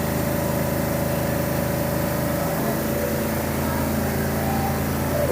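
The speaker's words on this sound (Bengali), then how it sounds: "এখন গাড়িটি স্টার্ট করে তারা দেখছে" A Tata pickup truck's engine runs at a steady idle, a continuous close mechanical drone with a low hum that stays even throughout, with no voices over it.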